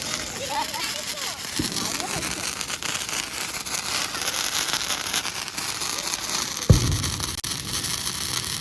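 A sparkler firework crackles continuously at a Diwali celebration, a steady hissing, fizzing spray with a couple of sharper pops, heard close up under people talking.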